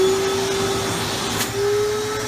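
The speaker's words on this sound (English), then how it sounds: "About to use the shot vac on Bo's head right here." A shop vac runs continuously close by, its steady motor whine and rushing suction used to cut a person's hair during a home haircut, with a brief change in pitch partway through.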